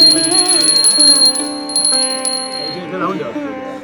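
A ritual hand bell rings rapidly and continuously during a Hindu puja at a temple ground-breaking ceremony. The bright, close metallic jangling sits over chanted prayers and fades toward the end.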